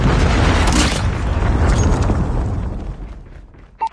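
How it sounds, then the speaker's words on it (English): A predator missile strike in Call of Duty gameplay lands as a loud, deep boom, followed by a rumbling blast that slowly fades over a few seconds and ends with a couple of small knocks. "Hostile predator missile inbound."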